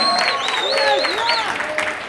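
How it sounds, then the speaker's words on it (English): A convention audience at a closing ceremony applauds the AV crew, steady mid-level clapping beneath a voice that carries over it. "Wave to them and give them a round of applause."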